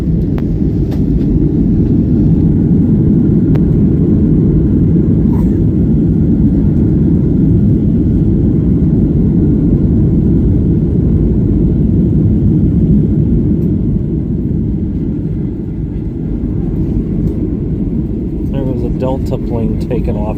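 Heavy, steady roar of an Avelo Airlines airliner during landing rollout at Atlanta airport, loud and continuous throughout, with a slight dip near the end.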